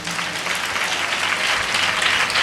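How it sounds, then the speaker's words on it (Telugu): A church congregation claps loudly and steadily, a dense, continuous burst of applause filling the room up close with no pauses. "సంతోషంగా ఒక్కసారి చప్పట్లు కొట్టండి బిగ్గరగా"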